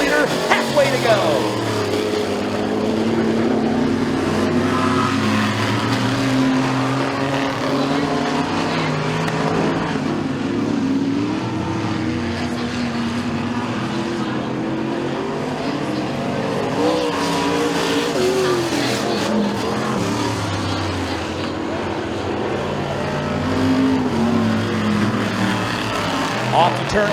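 Vintage modified race cars at McKean County Raceway roar continuously around a dirt oval, engines droning loud and steady through the straightaways and turns, with an announcer's commentary running over the top.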